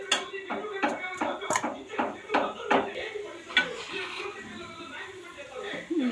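A utensil stirring and knocking against a pot of spiced chicken curry, a series of clattery metallic scrapes and taps under a person talking throughout.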